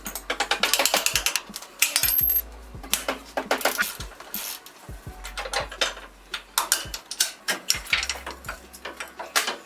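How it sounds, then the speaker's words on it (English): Ratchet clicks sharply and quickly while undoing upper control arm mounting bolts on a Mitsubishi L200 dual cab during a lift kit install, in close uneven bursts with metallic clinks and short gaps. "Now we will undo the 2 upper control arm mounting bolts."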